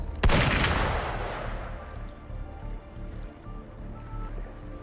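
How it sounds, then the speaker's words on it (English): Single sharp gunshot in the video game Wuthering Waves, loud and cannon-like, its boom decaying over a couple of seconds into a low ambient rumble with no voices. "There's a loud gunfire. I thought it was a cannon."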